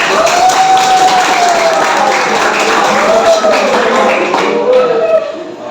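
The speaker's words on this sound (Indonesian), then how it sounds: "Tepuk tangan buat kalian semua." A class of students applauding together, a steady dense patter of clapping filling the room, with a voice and some cheering running over it before it tapers off at the end.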